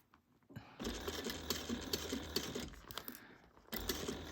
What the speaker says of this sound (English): now let's get ready to sew this